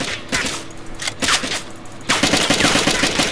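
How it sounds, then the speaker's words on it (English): Automatic gunfire in the survival video game DayZ during a player-versus-player fight, loud bursts of rapid shots in two clusters with a brief lull between, then sustained rattling fire. "he's shooting at me, shooting at me"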